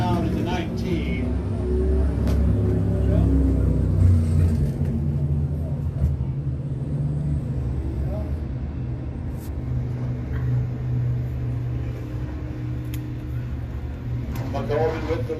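Race cars circling the Canam Speedway track, a continuous low engine drone that rises and falls as cars pass, steady throughout under the rumble of the field.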